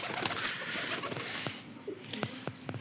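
White-eyed white Malwai pigeons coo softly in a loft, with scattered light wing flaps and pattering amid steady background hiss.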